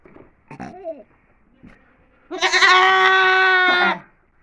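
A goat lets out one loud, drawn-out, quavering bleat up close, preceded by a few softer animal noises and handling sounds.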